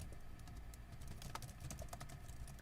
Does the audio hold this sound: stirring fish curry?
no